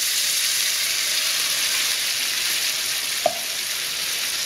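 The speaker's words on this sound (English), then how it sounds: "Sizzling away there now." Steady, dense sizzling of chicken curry with tomato puree, water, garlic and ginger frying in a pan, continuous and fairly loud, with a brief clink partway through.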